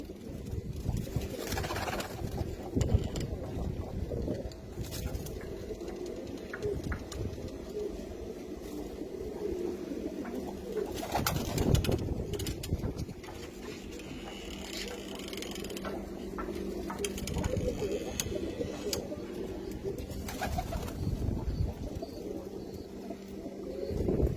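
Pigeons kept for sale in Diwaniyah coo repeatedly at close range. Their soft throaty calls rise and fall over a faint mechanical whirring in the background.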